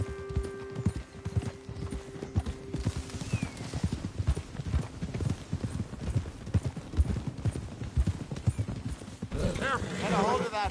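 Horse hooves clip-clop steadily at a brisk gait in Red Dead Redemption 2, close and continuous for about ten seconds, with a horse whinny near the end.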